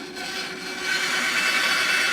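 A hand saw makes a rough cut through wood for a homemade slingbow, with a close, steady, rasping run of strokes that grows slightly louder partway through.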